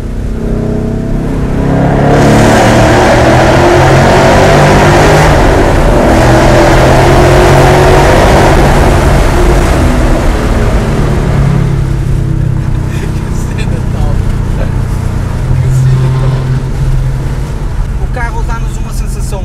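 A Ford Mustang GT with a 5.0 V8 rumbles loudly and steadily close by, swelling as it revs and then easing, while people talk over it.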